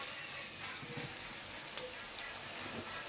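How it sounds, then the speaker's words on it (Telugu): Onions frying in a pan while cooking a biryani, a steady soft sizzle with faint crackles throughout, close and continuous with no talking. "చూడండి ఉల్లిపాయలు చక్కగా వేగుతున్నాయి"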